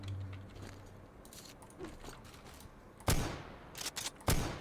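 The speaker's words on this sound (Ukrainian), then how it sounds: "Стріляє в цілому приємно. Як по звуку, так і по анімаціям." A Winchester rifle firing in the S.T.A.L.K.E.R. video game: two loud, sharp gunshots about a second apart near the end, with mechanical clicks and rattling handling noises before and between them.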